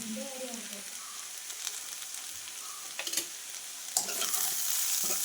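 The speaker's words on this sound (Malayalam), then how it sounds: "ഇനി നന്നായിട്ട് ഇളക്കി കൊടുക്കണം." Ground spices, coriander powder and pepper, sizzling in a hot pan while being stirred, giving a steady high hiss with a few sharper scraping scrapes and clicks, close and alone without talk.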